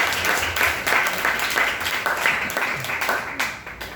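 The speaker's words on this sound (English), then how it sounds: "Can you all give me a big round of applause?" Audience applause breaks out at a Vedic seminar on inner engineering: steady, dense clapping from a seated crowd that holds for several seconds with a few voices mixed faintly underneath.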